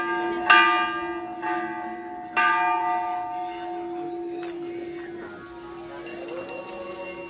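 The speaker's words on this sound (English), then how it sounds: "So the kids are ringing the bell." A large bell struck twice, each ring loud and resonant with a long, slowly fading hum, followed by fainter lighter ringing.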